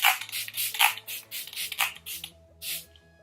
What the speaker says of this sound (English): I'm going to set with the Photo Finish Primer Water Spray